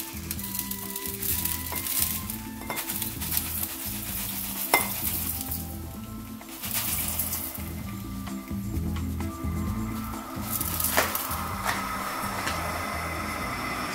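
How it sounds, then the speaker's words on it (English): Potassium hydroxide flakes added to water boil and fizz in an exothermic reaction: steady sizzling and bubbling, with occasional clinks and scraping sounds, no voices. "So it's very exothermic. You can hear it boiling as I put it in."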